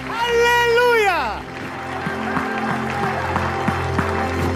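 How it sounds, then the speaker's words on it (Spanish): A church congregation applauds during a sermon, a sustained wash of clapping with scattered sharper claps following a drawn-out sung or shouted voice that fades away. "Dale un aplauso al Rey de Reyes, al Señor de Señores"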